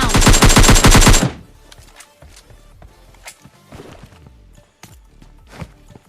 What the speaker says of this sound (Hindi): यहाँ पर साइड में हमें गोलियों की आवाज़ आई